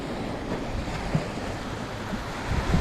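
Steady rushing surf and wind noise from rough ocean waves at a beach in Playa del Carmen, with waves swelling louder near the end.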